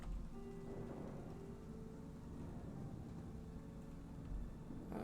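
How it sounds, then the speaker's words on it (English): Storm rain in the video game Slime Rancher 2, a steady rush of rainfall with a soft low rumble beneath it, continuous and fairly quiet throughout, with no talking. "It's storming around the ranch."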